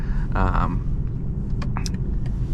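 A 2025 BMW 330i xDrive driving, its steady low road and engine rumble continuous throughout, with a person talking briefly over it near the start and faint clicks later.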